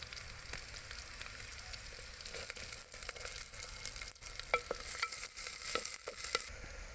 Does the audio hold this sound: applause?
no